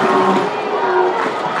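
Baseball crowd at a 2019 UIL 5A Texas state championship game cheering loudly and steadily after an RBI single in the top of the second inning, a dense, sustained roar of many voices.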